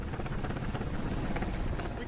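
A military rescue helicopter flies over a mountain, its rotor and engine roar steady, loud and close throughout, with no break in the dense thudding wash.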